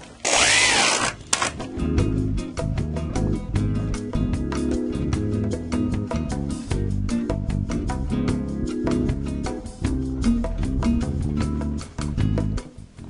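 A corded power drill whirs loudly and steadily in bursts, its motor pitch rising and dipping as it bites, with a short sharp hiss at the start.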